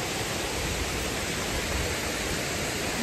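A waterfall and rushing stream at Thousand Layers Waterfalls send out a dense, even roar of water, loud and continuous from close by.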